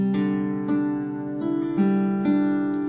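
A single guitar chord, the first chord of a song, rings out several times, each strum sustaining into the next, played alone and fairly close.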